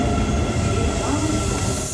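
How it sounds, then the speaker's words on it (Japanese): A train rumbles close by on an Osaka line near Bentencho Station, arriving from the Osaka Nanko direction, its low mechanical roar steady and loud with faint wheel noise, like a train pulling into a station. "空いてる空いてる、大阪南港の方から来た電車です。"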